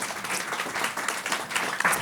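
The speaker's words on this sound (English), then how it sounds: "may I also have an applause for Jorge Puerta?" Audience applause at a post-performance talk with dancer Germaine Acogny, a short, moderately loud patter of many hands clapping in an unbroken wash.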